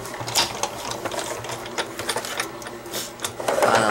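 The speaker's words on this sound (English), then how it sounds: "the washing machine is really going right now" A washing machine runs in the background, a steady mechanical churning with rhythmic clicks and whirring bursts throughout, fairly close and continuous, with no talk.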